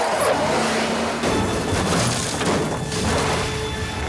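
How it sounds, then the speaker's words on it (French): A car crash from an action film plays loudly, a dense roar of engine noise and tire skid with impacts rolling through it continuously, and no one speaks. "Alors regardez ce crash de bagnole."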